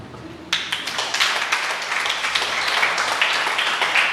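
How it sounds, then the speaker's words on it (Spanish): A church congregation bursts into applause at once, a sustained wash of many hands clapping that holds steady and fills the room. "un aplauso"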